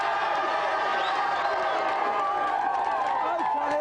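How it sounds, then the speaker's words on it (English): A studio audience at a video game TV show cheers and claps in a steady, dense roar that holds for a few seconds. "Give them a cheer."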